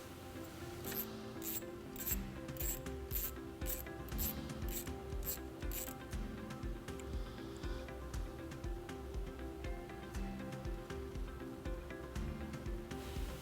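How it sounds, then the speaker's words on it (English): A 10mm socket on a ratchet loosens a nut on the fuse box of a 2015 Mazda CX-9, giving a quiet close-up series of rapid clicks early on, followed by softer rubbing and scraping. "We're going to remove this nut right here using a 10mm socket."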